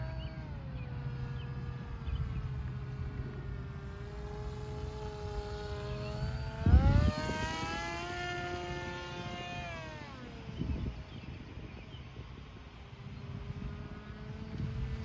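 An electric RC flying wing with a 1300 kV motor and 2200 mAh battery flies at night, a steady high whine that swells and bends in pitch as it passes near, then fades back to a distant drone.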